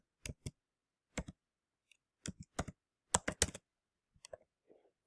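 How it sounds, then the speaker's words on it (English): A name typed on a computer keyboard in short bursts of crisp key clicks separated by pauses, close and fairly quiet in a silent room, with no speech. "So I'm going to type in that name."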